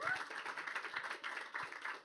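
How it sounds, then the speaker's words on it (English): Applause from a small audience welcoming two McLaren guests at a women's sports panel, a steady patter of hand claps filling the room at moderate loudness. "a round of applause for Louise and Zach from McLaren"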